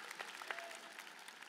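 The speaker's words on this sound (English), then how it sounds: "Spam's gonna get its own clap" Audience applause fills a crowded hall at a 2016 presidential election forum in Utah, a dense, steady patter of many hands clapping at close range for the whole short burst.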